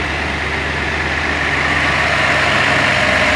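A car engine fitted with SU carburettors runs steadily at idle, a loud, continuous low hum and rumble recorded close up without any talking.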